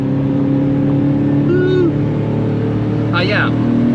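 Porsche 993 with a 3.6-litre flat-six engine droning steadily at a constant pitch from inside the car, loud and continuous, with brief speech-like sounds over it.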